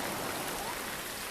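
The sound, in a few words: rain in the video game Real VR Fishing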